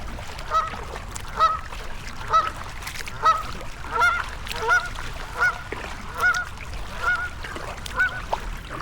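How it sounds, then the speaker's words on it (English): Seen from a kayak on an urban creek near Philadelphia, a Canada goose honks about ten times in a regular, evenly spaced series, loud and close over faint water ambience. "Canada goose right in front of me, making some noise."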